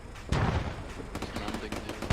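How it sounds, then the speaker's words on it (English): Mortar rounds landing during a military video game operation, heavy booming impacts with a big blast early on followed by repeated rumbling detonations, loud and close amid ongoing battle noise. "More mortars."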